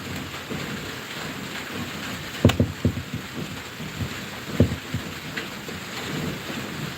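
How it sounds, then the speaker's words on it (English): Steady rain falls on surfaces with a constant hiss, broken by a few sharp, close thunder cracks and rumbles midway, with no talking. "Yeah, it's raining"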